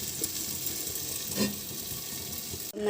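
Okra curry with masala powder and a splash of water cooks under a lid in a pan, giving a steady, even sizzle and bubbling that runs the whole time with no voices.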